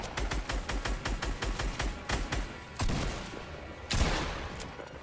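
Rapid bursts of gunfire in Fortnite during a fight with another player: a fast run of evenly spaced sharp shots, then a few heavier, louder blasts with a lingering tail, close and loud with no talk.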